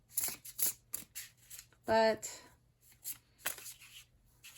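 A Baroque tarot deck gets shuffled by hand in a series of short, crisp card riffles and slides, close and fairly quiet, with brief speech mixed in.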